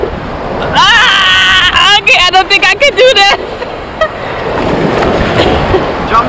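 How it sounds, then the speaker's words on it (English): Huge ocean waves crash on a Trinidad beach, a rolling broad surf roar under wind that grows toward the end after people chatter loudly up close. "Look at those huge waves."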